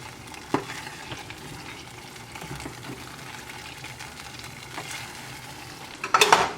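Wooden spoon stirring spicy Ghanaian food in a pot, a steady soft scraping and faint sizzle throughout, with a sharper clatter near the start and a brief louder knock at the end.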